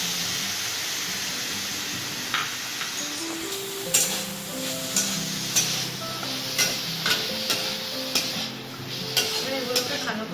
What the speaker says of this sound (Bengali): চিকেনটাকে জাস্ট একটু সটে করে তারপরে আস্তে আস্তে এই গ্রেটেড গাজরটা আর এই ক্যাপসিকামটা দিয়ে দেবো